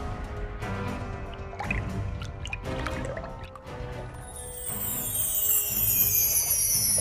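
Hands dip into a magical forest river in a cartoon story, making soft drips and light splashes at a gentle, uneven pace, followed by a rising shimmering tone near the end.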